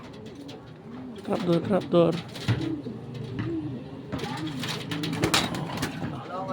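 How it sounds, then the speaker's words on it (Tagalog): Racing pigeons cooing during a San Pedro, Laguna training release, several soft rolling coos near and far, mixed with chirps and people talking nearby. "Ayan yung ibon, night bird, o."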